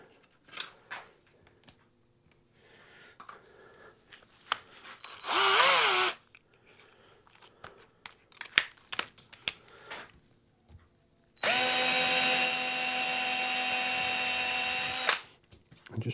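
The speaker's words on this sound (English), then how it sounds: "And just drilling them out." Power drill boring holes with several drill bits into a guitar pickguard for a Flying V, two sustained whirring bursts of a few seconds each, close and loud, separated by quieter handling clatter.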